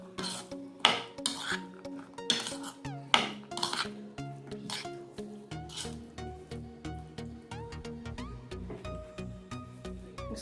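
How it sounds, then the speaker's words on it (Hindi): Chaat papdi ingredients being mixed in a bowl, with a spoon clinking and scraping against the vessel in quick, uneven strikes and a steady stirring rattle, up close and fairly soft, no voices. "इसको मिक्स कर लें।"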